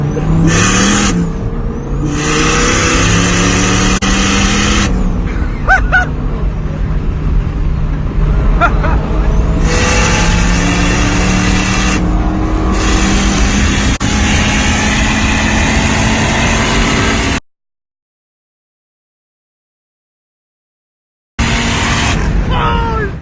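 A truck engine roars loudly as it accelerates hard past a Scat Pack Charger, revs rising and shifting repeatedly, then a short gap of silence before the roar returns. The truck runs extremely rich.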